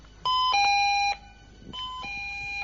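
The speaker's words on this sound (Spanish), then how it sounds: "Este es el sonido de la alarma cuando está activada" A security alarm's electronic two-tone chime rings twice in a row when activated, loud and clear, with no talking.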